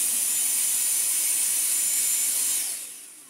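A toy Henry vacuum cleaner powered by a small V8 motor runs with a steady, close, high-pitched whirring hiss that tapers off at the end.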